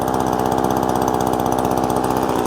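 ECHO PB-2620 leaf blower's small two-stroke engine running after being started, a loud, close, steady buzzing drone with a fast even pulse and no voices.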